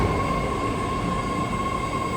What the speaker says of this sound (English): 8-car Berryessa train now departing Bayfair Station.